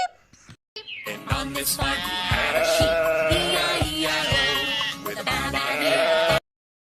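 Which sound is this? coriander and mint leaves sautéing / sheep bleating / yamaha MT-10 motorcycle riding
sheep bleating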